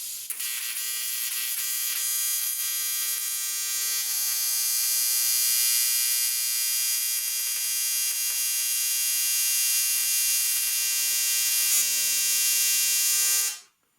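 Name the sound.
TIG welding cast aluminum with CK torch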